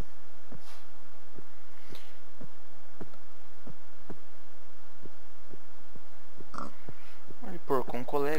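A Minecraft pig gives a few short, nasal oinks near the end, after a run of steady, evenly spaced soft ticks.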